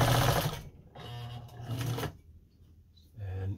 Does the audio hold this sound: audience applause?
no